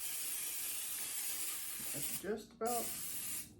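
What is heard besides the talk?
cooking spray sprayed onto a pan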